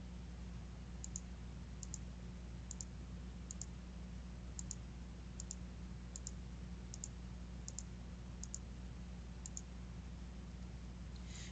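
Rapid double clicks from a computer mouse selecting photos in File Explorer repeat at a steady pace roughly every second, faint and crisp over a low constant hum.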